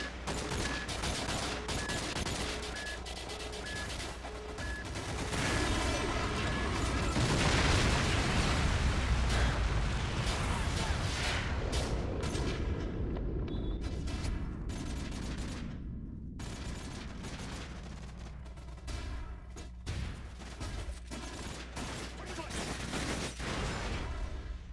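A MOAB bomb goes off in a first-person shooter game, a heavy rumbling blast that swells and rolls on for many seconds, with crackling bursts and scattered gunfire layered on top.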